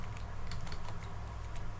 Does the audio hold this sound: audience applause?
no